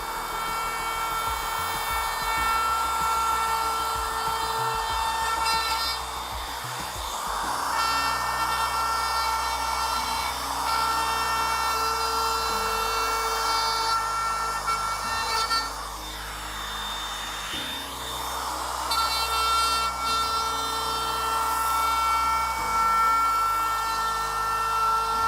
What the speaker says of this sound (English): that bearing will ride along the edge that the CNC put on and cut off all of the extra